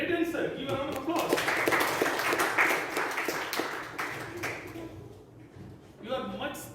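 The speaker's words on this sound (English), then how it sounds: "Give a round of applause." An audience at a youth leadership programme session gives a round of applause, a dense burst of clapping that swells for about four seconds before fading, with speaking heard before and after it.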